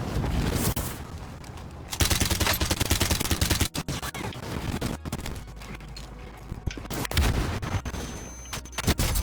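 Gunfire from a weapon fired from the hip in the video game Warzone, dense loud bursts of rapid shots that continue almost without a break, with sharp single cracks and brief gaps between the bursts.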